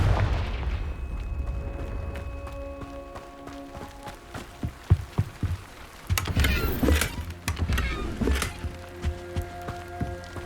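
A Confringo fire spell going off in the Hogwarts Legacy video game, a burst of sharp bangs and crackling blasts around the middle, loud against an ambient game soundscape with scattered thuds and footsteps.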